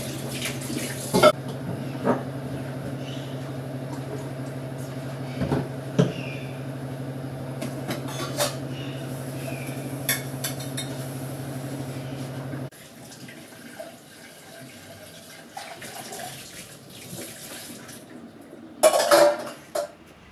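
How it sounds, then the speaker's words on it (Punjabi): Dishes get washed under a running kitchen tap: steady water flow with clinks of pots, plates and cutlery, then the tap goes off and quieter handling continues, ending in a loud clatter. "ਮੈਂ ਬਰਤਨ ਸਾਫ਼ ਕਰ ਲੈਂਦੀ ਹਾਂ"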